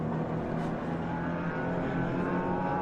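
GT4 race cars, a BMW M4 and a Porsche Cayman, roar past at Autodrom Most in a GT Cup sprint race, a steady droning engine note heard from a distance without talk.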